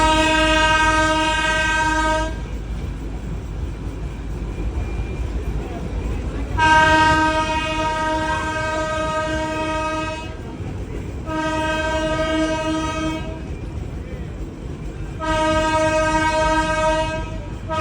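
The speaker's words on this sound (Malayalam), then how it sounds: "ട്രെയിൻ ഇപ്പൊ പോകുന്നത് ഒരു മാർക്കറ്റിന്റെ ഇടയിലൂടെയാണ്." A train passing through a market in Siliguri sounds its horn in long, loud, repeated blasts over a continuous low rumble of the moving cars.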